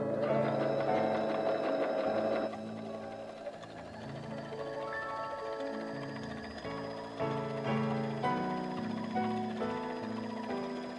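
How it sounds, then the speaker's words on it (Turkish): A Veritas MARIE sewing machine stitching a selected pattern runs steadily and alone for about eleven seconds, a close, continuous mechanical whir with shifting tones as the stitch changes. "İğnem havadayken dikiş desenimi seçiyorum ve dikişe başlıyorum."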